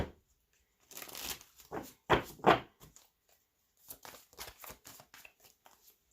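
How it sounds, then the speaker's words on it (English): Osho Zen Tarot cards being shuffled by hand, a series of close riffling and flicking bursts with short pauses, followed by lighter soft shuffling and tapping, no talk. "one more shuffle for our Scorpios"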